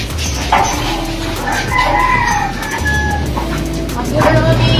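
A rooster crows amid clucking chickens, loud and close, with a dog barking faintly and some background chatter.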